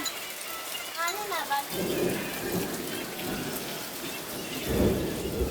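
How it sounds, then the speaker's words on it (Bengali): A steady downpour drums on surfaces during a hot-weather thunderstorm, with low rolling thunder rumbling through the wash of rain. A brief high call briefly rises over the storm. "এখানে আমরা বৃষ্টির পানি ধরে রাখতেছি"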